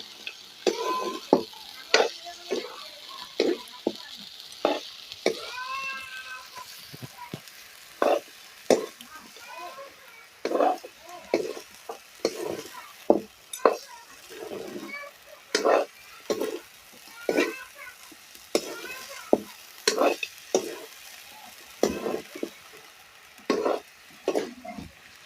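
Duck curry is stirred in a pan, with a run of distinct scraping and clattering strokes, some twenty in all, close by over a faint simmering sizzle, with no talking.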